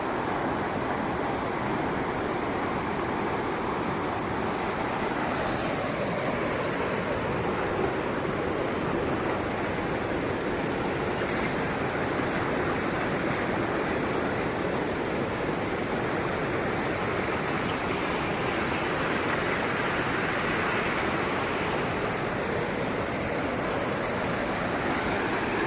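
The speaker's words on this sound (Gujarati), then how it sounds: "નદી જોવો તમે ખાલી, કેમ નદી કેમ જાય છે." A river swollen by two hours of heavy rain rushes past in a loud, unbroken watery roar close by, steady from start to finish, with no voices over it.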